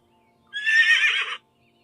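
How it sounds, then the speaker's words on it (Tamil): A single horse gives one short, bright whinny lasting under a second, close and clear against near silence, with no talking around it. "அப்போ அவங்க வீட்டுக்கு ஒரு குதிரை வந்திருக்கு"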